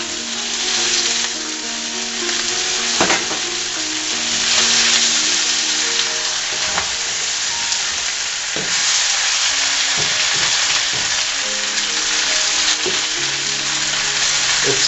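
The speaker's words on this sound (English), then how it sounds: "the liver is cooked, so I'll add the onion and the chorizo. I'll just mix that in." Liver, onion and chorizo sizzle loudly in a frying pan as they are mixed together, a constant close hiss punctuated by clacks and scrapes of a utensil, with no speech.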